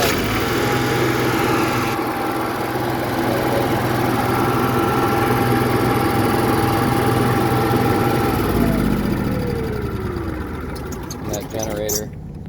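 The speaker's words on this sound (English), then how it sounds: "Generator fires right up" Onboard generator on a 2017 Keystone Impact toy hauler running at a steady idle, a constant mechanical hum close by with a tonal whine that drops away near the end, while a person talks over it.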